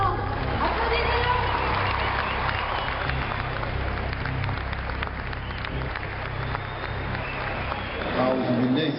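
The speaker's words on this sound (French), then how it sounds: "Applaudissez-le." An audience at a lecture event applauds as a speaker is introduced, a continuous, fairly even roar of many clapping hands lasting throughout, with voices mixed in.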